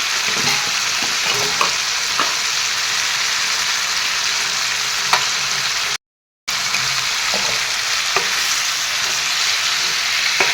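Fish and cauliflower curry frying and being stirred in a pan, a continuous loud sizzle with occasional scraping stirs and a brief dropout partway through.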